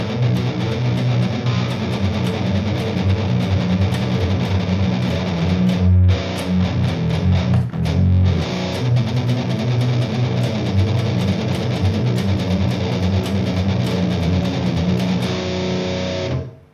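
An electric guitar runs through the Metal Zone distortion model on a Zoom G1X Four pedal, giving a dense, saturated, sustained tone that plays loud and continuously with two brief dips before cutting off at the end.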